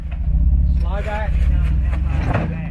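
A 4x4 backs slowly over big rocks on an extreme off-road trail in Texas, its engine a low steady rumble nearby while a voice talks over it.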